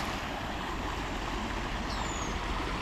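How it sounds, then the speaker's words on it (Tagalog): River water flows at Thompson Memorial Park in Canada, a steady, soft rushing wash that continues evenly from start to finish with no talk over it. "Ilog."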